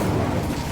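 A burst of fire from the Incendio spell in the Hogwarts Legacy video game, a short, steady, loud rumbling whoosh with a low boom-like body.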